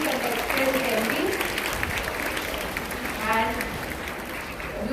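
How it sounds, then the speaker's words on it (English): A school assembly audience applauds class 5B with steady, dense clapping throughout. A voice speaks over the crowd at times. "Big round of applause once again."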